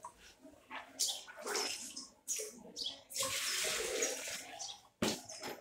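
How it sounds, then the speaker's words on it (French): Water poured from a carafe into a cooking pot, splashing and gurgling in several bursts with one sustained pour near the middle, close and fairly loud. "La deuxième, je la verse dans ma marmite."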